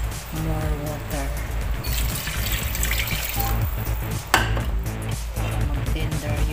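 Water pours into a pot of beef stew, a continuous splashing rush that runs steadily for several seconds with a brief clunk partway through.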